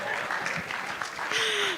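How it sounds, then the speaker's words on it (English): A summit audience breaks into brief, scattered clapping, mixed with voices and ending in a sustained tone that sounds like a microphone or someone singing. "Round of applause for him."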